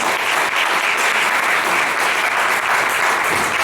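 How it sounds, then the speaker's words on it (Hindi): Sustained applause from an audience at a Hindi poetry recital, dense and steady throughout with no break, honoring a young poet who has just read. "दोनों हाथ उठाकर तालियां बजनी चाहिए इस ऐसे युवक के सम्मान में"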